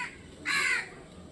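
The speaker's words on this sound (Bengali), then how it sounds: "ওখানে দেখো কত পাখি বসে আছে" A single crow caws once, loud and close, from a rooftop under a cloudy sky with other birds perched nearby.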